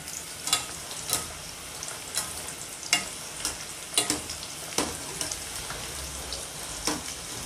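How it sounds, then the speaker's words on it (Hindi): Chicken pieces fry in medium-hot oil with a steady close sizzle and frequent sharp pops and crackles spattering throughout, and no voices. "मीडियम गरम तेल पे फ्राई करना।"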